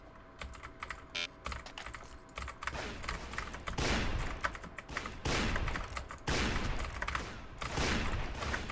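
Rapid bursts of gunfire from the Roblox game The Mad Murderer 2, loud clustered shots in repeated volleys with sharp clicky transients, no voices.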